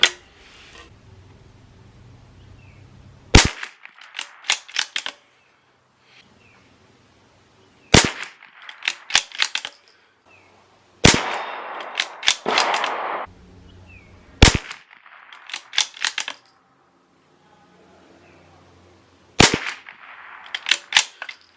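A Bergara B-14R .22 LR rifle fired during an ammunition test, sharp close single cracks spaced several seconds apart, with quieter handling and bolt-cycling clicks between shots.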